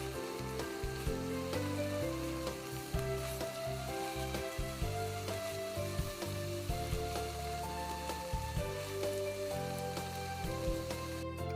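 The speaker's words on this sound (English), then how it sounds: "Now it's time to add the celery and carrots, stirring occasionally until softened." Celery and carrots sauté in a pot for white bean and kale soup, a steady soft sizzle running throughout with occasional stirring scrapes, close and quiet.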